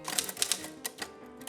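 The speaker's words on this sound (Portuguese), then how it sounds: "Antes da era dos computadores, o que existia era a máquina de datilografia, e ele tem uma coleção delas." Antique typewriter from a private museum's collection being typed on, a quick irregular burst of sharp mechanical key clacks, fairly faint and close, with no voices.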